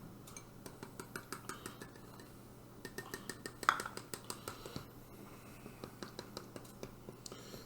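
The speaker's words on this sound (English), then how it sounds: "I'm going to whisk those 2 together." Milk and flour being whisked together in a bowl for a sauce, a steady run of quick, light clinking taps of the whisk against the bowl with brief pauses, close and fairly faint over a low background hum.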